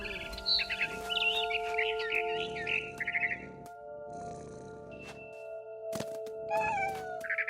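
A cat meows and caterwauls in What Remains of Edith Finch, several drawn-out cries over a low steady game tone, with birdlike chirps and faint rustling between them and no talking.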